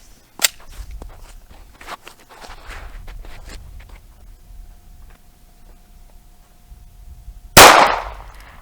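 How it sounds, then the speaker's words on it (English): A single loud, sharp 9mm pistol shot rings out near the end and is fired at a brick outdoors. Earlier there are faint footsteps and shuffling, and the crack of the shot fades quickly. "9mm out of a pistol now. I think it's gonna smash the first brick pretty good."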